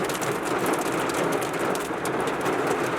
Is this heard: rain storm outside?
yes